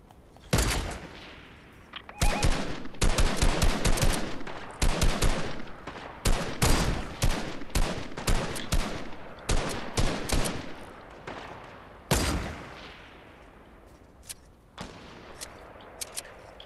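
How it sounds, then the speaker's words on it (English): Fortnite gunfire from players shooting down off a big hill, with loud rapid bursts and volleys that come in repeated clusters, some fading to scattered single shots near the end. "People shooting from that big hill."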